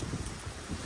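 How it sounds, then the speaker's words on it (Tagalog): Strong wind blows outdoors on a street in Busan, buffeting the microphone with a loud, rumbling roar that holds steady through the brief moment. "Oh, lakas ng hangin."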